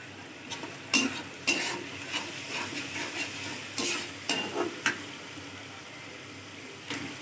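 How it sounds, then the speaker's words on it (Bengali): Stinging catfish fry in a pan with ginger garlic paste as a spatula stirs and scrapes in scattered strokes over a faint, steady sizzle, close by with no talking. "আদা রসুনের পেস্ট দিয়ে এখন ভালো মতো কষিয়ে নেব মাছগুলোকে।"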